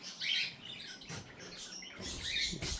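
Budgies chirp inside an aviary, with faint high twittering and scattered tweets over a soft, busy background, heard at a moderate distance with no talking.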